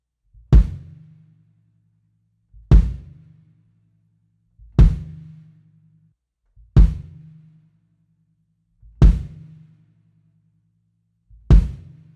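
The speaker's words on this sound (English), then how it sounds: "And then this time I am going to bury the beater." Six evenly spaced bass drum kicks, roughly two seconds apart, each played with the beater buried into the head of a drum tuned up high. Every stroke is a loud low thud with a short tonal ring that fades quickly, and there is no talk.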